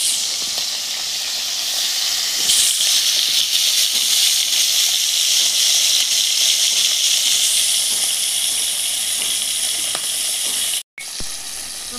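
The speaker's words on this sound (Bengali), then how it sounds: "মাছের মাথাটা আমি ভেজে নেব।" A fish head rubbed with salt and turmeric frying in mustard oil in a wok, giving a steady, close, hissing sizzle that barely changes for the whole stretch, with a brief dropout near the end.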